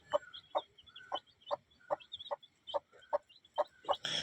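Four newly hatched native chicks, three black and one red, with hens, give a run of about ten evenly spaced, close clucking calls alongside faint higher peeps.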